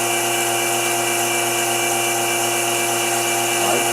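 A wood lathe spins a yarn bowl while a half-inch bowl gouge rides the bevel in a light shear cut along the bottom edge, giving a steady, loud, high whirring drone with no talking.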